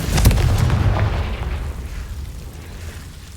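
A Confringo blasting spell goes off in Hogwarts Legacy: one loud, close booming explosion that bursts at once and then fades into a rumbling decay over a few seconds, with no voices.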